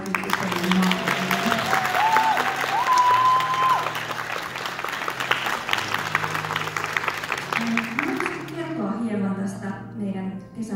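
Applause from an audience at a Cloudberry Lady fashion show at Hypecon 2023, steady clapping filling the room with music running underneath, fading out near the end.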